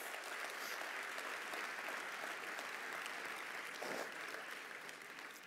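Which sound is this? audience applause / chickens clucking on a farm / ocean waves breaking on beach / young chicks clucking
audience applause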